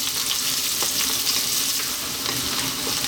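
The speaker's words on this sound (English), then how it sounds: "Then we're going to drop in the onion. We're on a high heat" Onion frying on high heat in a pan for veg egg fried rice, giving a steady, loud, dense sizzle with faint stirring clicks and no talking.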